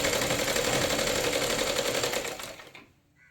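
Sewing machine stitching a lehenga's finishing seam, a steady fast whirring run that holds loud and even for about two seconds, then slows and dies away into quiet.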